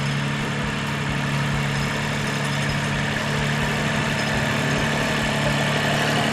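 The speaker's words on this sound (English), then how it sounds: "Someone's enjoying driving the tractor." A tractor engine runs steadily at a constant idle-like rumble, close and loud, with a deep continuous hum and mechanical vibration throughout while someone drives it outdoors during tree cleanup work.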